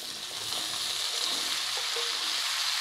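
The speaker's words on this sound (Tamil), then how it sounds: "நம்ம பச்சை மிளகாய் போட்டு நல்லா வதக்கணும்." Green chillies and curry leaves sautéing in hot oil for a homemade green chilli pickle give a steady, close sizzle with soft crackle, unbroken for a few seconds and no voices.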